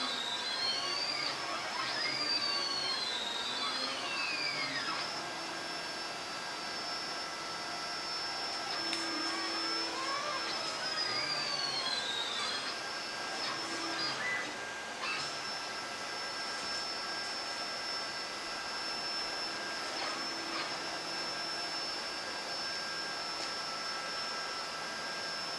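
Discount plasma cutting table on a dry run, a continuous whirring motor hum with rising and falling whining sweeps as the gantry moves back and forth, steady throughout with no talking.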